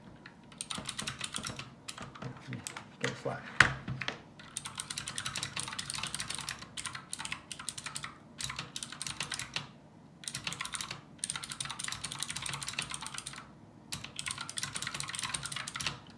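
Clicky mechanical keyboard with non-Cherry blue switches typing in bursts separated by short pauses, close and crisp, with a brief spoken remark early on.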